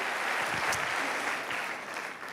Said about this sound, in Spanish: el aplauso va para ustedes